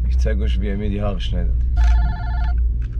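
A mobile phone rings with a short electronic ringtone burst under and after a person speaking, close and clear.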